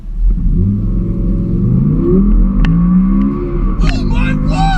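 An Audi R8 V10 coupe accelerating hard from 0 to 62, its engine note climbing loudly through rising revs with a gear change, heard from inside the car while people shout excitedly over it.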